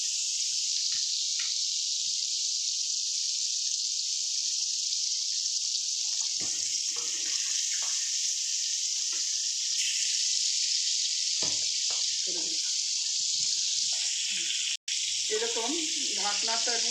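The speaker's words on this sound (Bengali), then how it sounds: "এবার আমি মাছগুলোকে দিয়ে ভেজে নেব।" Fish that was rubbed with lemon frying in mustard oil for a mustard-poppy seed fish curry, a dense continuous close sizzle, with a few clatters and a louder bubbling flare toward the end.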